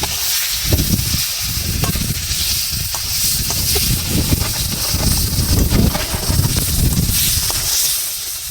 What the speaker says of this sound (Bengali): চিকেনটা দিয়ে এবার নেড়ে চেড়ে শুধু কষাতে হবে।